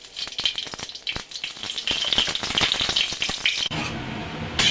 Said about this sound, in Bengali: সেমাইগুলো আমি ভেজে নেব